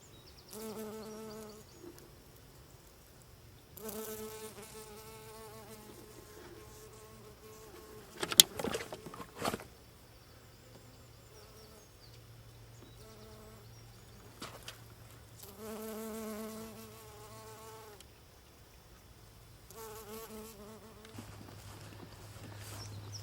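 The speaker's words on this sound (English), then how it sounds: "They're all attracting the bees at the moment." Bees buzz around marsh marigolds in a Yorkshire Dales meadow, a soft insect drone that comes and goes in several passes, with a brief louder rustle near the middle.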